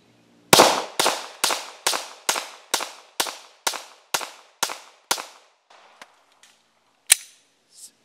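A Glock 19 pistol firing .38 SWC bullets lets off ten sharp, loud shots in quick, steady succession, followed by a few faint clicks and one last isolated crack.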